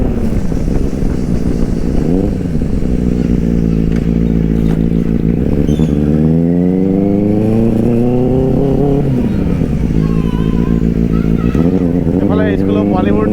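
Benelli 600i motorcycle being ridden, a loud steady engine drone that rises and falls with throttle changes across the ride, with a person talking over it throughout.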